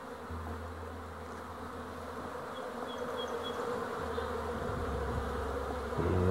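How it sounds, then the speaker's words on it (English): Honey bees buzz steadily around their hive entrance, a dense close hum of many insects coming and going, growing slightly louder toward the end with no talk. "Bunch of new bees."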